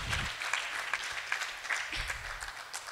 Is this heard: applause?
yes